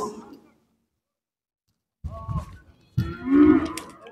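Cattle moo loudly at close range amid the murmur of people talking at the livestock market in Aksukent village, with horses in pens, and a brief quiet gap before the lowing rises again.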